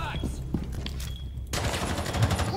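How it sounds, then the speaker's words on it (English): Rapid automatic gunfire in the Rainbow Six Siege video game, loud and dense bursts that get sharper and busier halfway through, with a few thumps and footsteps among them. "Why is Thingy still out here shooting at us?"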